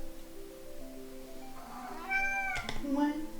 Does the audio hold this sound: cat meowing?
yes